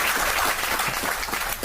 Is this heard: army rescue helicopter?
no